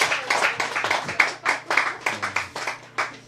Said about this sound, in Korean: 박수를 한번 해주시죠.